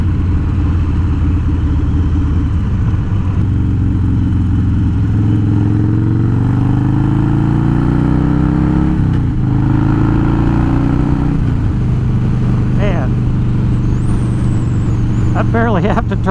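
A Harley-Davidson Twin Cam Dyna with upgraded cams and ThunderMax tuning pulls away under throttle, a loud low engine drone rising in pitch through several gears beneath heavy wind buffeting, with a rider talking over it.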